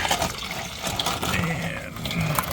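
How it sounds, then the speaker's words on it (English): Coolant pouring out of the radiator burp valve of a 2003 Porsche Boxster during draining, a continuous close, splashy liquid rush with a gurgling texture and faint voice-like sounds mixed in. "I just opened the burp valve, and as you can see, it's pouring"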